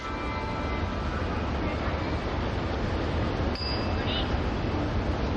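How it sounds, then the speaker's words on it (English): A warning bell rings during the women's balance beam final at the 1995 U.S. Olympic Festival gymnastics competition. It is a brief, faint ding or two heard over steady arena crowd noise. "There's the bell. She must dismount the beam now."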